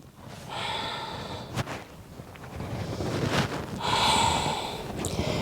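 Deep breaths drawn and released during a gentle morning stretching routine, with a couple of long, airy inhales and exhales and a sharp snort-like breath, close to the microphone over faint background hiss.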